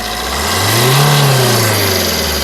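A 2015 Maruti Suzuki Swift Dzire LDI diesel engine idles, then revs up in a single rising surge and settles back to a steady, close idle.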